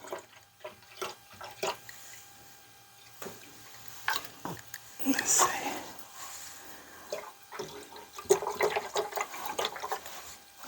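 Liquid gurgles and splashes as it is poured into an opened whole-house water filter housing, arriving in uneven bursts at close range beneath brief quiet speech.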